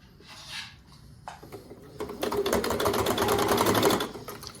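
A sewing machine runs long basting stitches around a drawstring bag. The loud, fast whirring run lasts about two seconds, after a few softer clicks and handling sounds. No one speaks.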